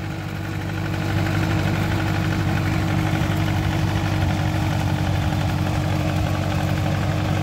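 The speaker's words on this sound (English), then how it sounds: "First time driving the tractor." A small Allis-Chalmers G tractor engine idles with a steady, even chug, close and fairly loud, running unchanged throughout.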